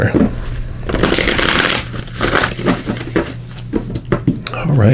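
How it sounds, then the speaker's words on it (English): A deck of tarot cards is shuffled in bursts of riffling and sliding, close by, while someone talks over it. "So let's give these a shuffle."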